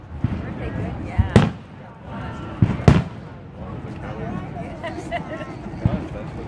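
Fourth of July fireworks in St. Charles, Illinois, burst with a few sharp booming cracks spaced seconds apart over a rumbling crowd backdrop, while people chat nearby throughout.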